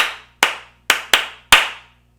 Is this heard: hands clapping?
yes